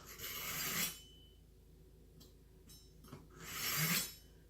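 RADA knife blade pulled through the discs of a knife sharpener, two quiet close rasping strokes separated by faint clicks and scrapes.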